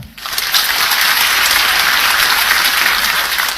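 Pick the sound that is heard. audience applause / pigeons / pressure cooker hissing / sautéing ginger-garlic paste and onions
audience applause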